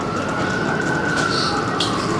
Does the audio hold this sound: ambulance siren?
yes